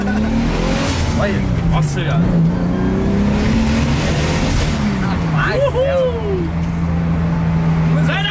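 A car accelerating hard and driving, engine revving up and down in loud sweeps with a brief tire squeal, close and continuous while people talk and exclaim over it.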